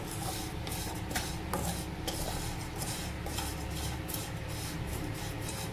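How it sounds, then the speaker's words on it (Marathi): Vermicelli roasting in a pan for kheer, a continuous dry scraping and rubbing as a utensil stirs the strands against the metal, steady and close with no voices. "शेवळ्या मस्त भाजून घेते।"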